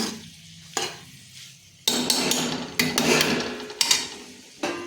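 Arbi (taro) and potato curry gets stirred in a pot over a low gas flame, a series of scraping, sloshing strokes in separate close bursts with short quiet gaps between them.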